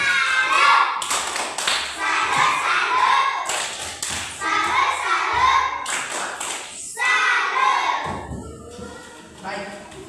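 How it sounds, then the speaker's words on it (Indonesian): A class of children in an Indonesian classroom claps out a rhythmic 'tepuk salut' chant, loud bursts of patterned hand claps and taps in repeating groups with brief pauses, mixed with young voices chanting along. "Tepuk salut untuk dia."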